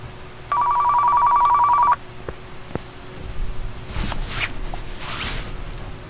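In the video game Car Mechanic Simulator 2015, a phone gives one sustained electronic ring tone lasting about a second and a half, followed by faint clicks, footsteps and shuffling sounds in a quiet garage.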